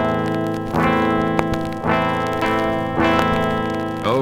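An electric guitar plays a basic funky rhythm pattern very slowly, three sustained strummed chords spaced about a second apart, each ringing out with effects-laden tone and slight echo, played alone without talking.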